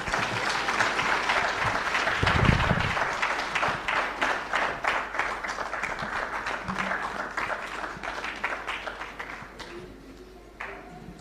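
Audience applause welcomes artist Eric Wainaina at a live opposition event: dense, steady clapping from a crowd that holds strong, then thins and tapers off near the end.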